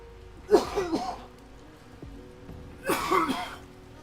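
A person coughs and clears their throat in two separate bursts close to the microphone, with quiet gaps between them and a faint background hum.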